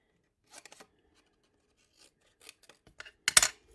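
Scissors trimming paper for a handmade craft card, a few quiet, close snips and rustles in short bursts, the last cut the crispest, with no talk.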